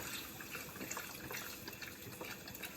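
Beef broth, a 32-ounce carton, poured steadily into a stew pot, giving a continuous liquid gush that runs unbroken at moderate loudness.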